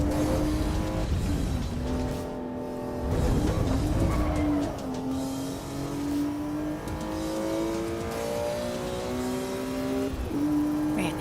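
A race car engine in the Assetto Corsa Evo driving game revs hard and climbs through repeated gear changes, loud and close, with brief tire squeal and no talking.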